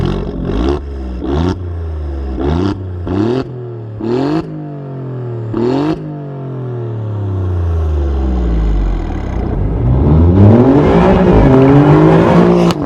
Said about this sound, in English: one of the best sounding V6s ever made, without a doubt. This car sounds fantastic.